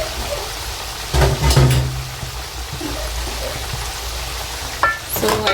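Loaded fries sizzle in a hot pan and are briefly stirred, with a steady frying hiss and a couple of louder scraping, clattering stirs near the start and end.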